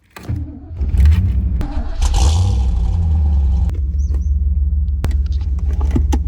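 A Holden VN SS car pulls away, its engine rumbling and revving up as it drives off, close and steady with a few light clunks and clicks over the drone.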